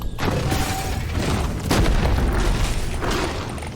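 Exploder enemies bursting in Deep Rock Galactic: Survivor, a run of dull booms and pops over a dense, continuous wash of game combat noise, with a heavier blast cluster near the middle.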